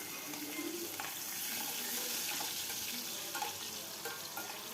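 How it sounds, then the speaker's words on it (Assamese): Cashew nuts fry in a pan for fried rice, giving a soft, continuous sizzle and crackle at low volume, with no voices over it. "মই কাজুখিনি ফ্ৰাই কৰিম অকণমান।"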